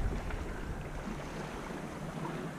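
A 1960s-designed sailboat cuts across the sea near Tarifa in a sailing video game, with a soft, steady wash of wind and water rushing past and no voices.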